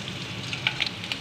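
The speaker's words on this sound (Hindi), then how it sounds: "फ्राई करेंगे तेल में" Food frying in hot oil while cooking Manchurian: a steady, soft sizzle with a few brief crackles and pops, close by and continuous, with no voices.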